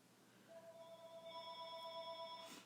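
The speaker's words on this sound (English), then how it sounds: "That's the phone." A faint electronic telephone ringtone plays quietly in the background of a home craft session while clay is being sculpted. It holds a steady tone for about two seconds with no talking.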